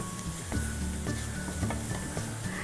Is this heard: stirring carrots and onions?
yes